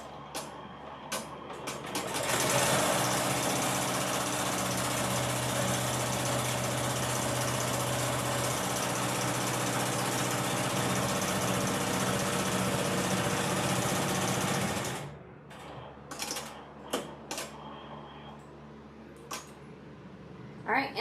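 Machine embroidery stitching bag pieces in a hoop: a loud, steady mechanical whir running about twelve seconds, then stopping abruptly into quieter clicks and handling noises.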